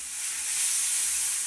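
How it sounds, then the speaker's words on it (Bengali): Onions sizzle steadily in a hot pan with chopped ginger added, a constant bright hiss of frying at close range, no voices over it. "পেঁয়াজটা ভাজতে ভাজতেই ব্যাস কষাতে কষাতে একদম একটু আদা কুচিয়ে দিলাম"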